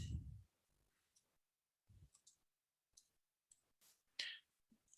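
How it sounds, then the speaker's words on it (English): Sparse, quiet clicks of keys being typed on a computer keyboard, a few irregular taps with long silent gaps, close and soft, one brief thump at the start. "I'll type that."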